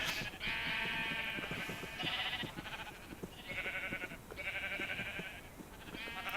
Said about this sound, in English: as soon as that portal opens, it's like just boom, there's the sheep everywhere